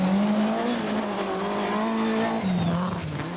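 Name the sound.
Audi rally car exhaust note on gravel tracks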